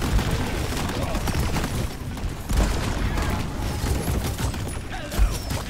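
Rapid automatic gunfire from an engineer's turret in a co-op video game fights off enemies, a dense continuous rattle of shots with booming impacts, loud and sustained throughout.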